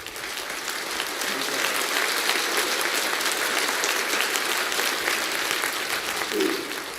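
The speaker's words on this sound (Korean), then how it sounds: "네, 박수 한번 하세요. 박수." Loud, sustained applause from a large congregation at a religious coronation ceremony, clapping continuously at a steady level with a faint voice surfacing near the end.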